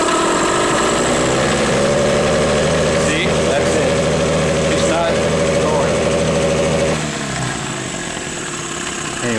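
A 9.9 outboard boat motor revs hard in neutral, loud and close with a steady drone, then drops toward a lower idle near the end while someone speaks over it.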